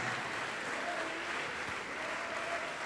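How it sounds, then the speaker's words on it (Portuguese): A church congregation applauds, a steady, even roar of many hands clapping at moderate distance, with no break across the few seconds. "Vamos aplaudir mais, igreja."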